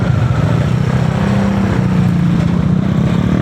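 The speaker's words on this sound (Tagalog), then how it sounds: "Buo yung tambutso niya." A stock-exhaust motorcycle runs steadily nearby after a head gasket and coolant overflow repair, giving a continuous low engine rumble with no talk.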